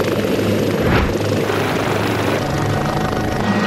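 A rescue helicopter at a road accident scene between a cyclist and a car, its rotor and engine roaring loud and steady, close by and constant with no voices over it.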